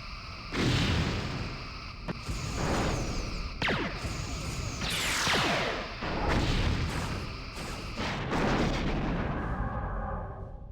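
Torpedo weapons firing in the Star Trek Bridge Commander space combat game, with repeated loud booming launches and sweeping blasts in quick succession, continuous and dense with no talking.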